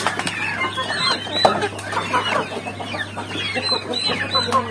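Flock of turkeys gobbling and clucking continuously, many birds calling over one another at close range with a steady low hum beneath.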